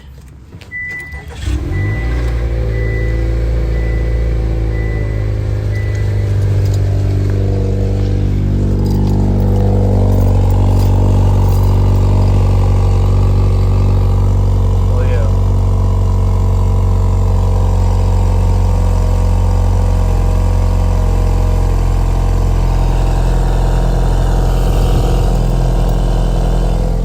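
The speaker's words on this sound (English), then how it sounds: "Cold start, baby." A Honda Accord 2.0T with an aftermarket exhaust fires up on a cold start, then settles into a loud, deep, steady idle that drones close by for the rest of the clip.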